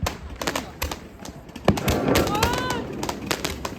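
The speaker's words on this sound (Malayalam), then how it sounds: "ഈ കേൾക്കുന്ന സൗണ്ട് മൊത്തം എല്ലായിടത്തും പടക്കം പൊട്ടിക്കല" Firecrackers burst during Chinese New Year celebrations, with scattered sharp pops and cracks, some close and some distant, over a busy outdoor background with voices in the crowd.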